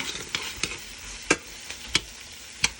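Onions frying in a pan give a steady close sizzle, broken by several sharp scraping knocks as a utensil stirs them at irregular intervals, with no one talking.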